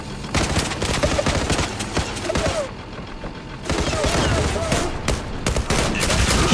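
Dense, rapid automatic gunfire in the Turkish online shooter Zula, loud and near, with bursts running almost continuously apart from a brief lull in the middle.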